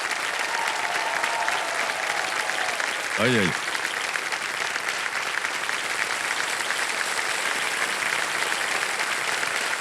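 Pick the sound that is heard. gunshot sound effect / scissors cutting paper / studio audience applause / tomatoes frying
studio audience applause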